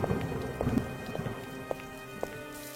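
Heavy rain pours steadily on the roof and ground of a small mud house in a village under dark clouds, with low rumbles of thunder rolling beneath the dense, continuous patter.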